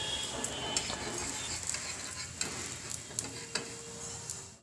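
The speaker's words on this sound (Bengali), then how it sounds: "এদিকে পাটিসাপটা ভাজা হচ্ছে" Patishapta pancakes fry in a pan with a steady broadband sizzle, broken by several sharp clicks and scrapes of a utensil against the pan.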